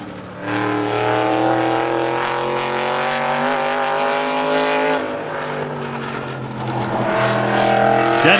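A sprint car engine roars loudly and steadily during a time trial at Star Speedway, its pitch rising and dipping as it accelerates around the track, close and dominant throughout.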